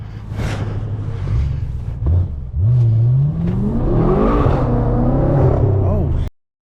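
A tuned 700 whp BMW M6 with a twin-turbo V8 rumbles outside, then revs repeatedly with sweeping rises and falls, loud and close, before cutting off abruptly; voices talk over the start.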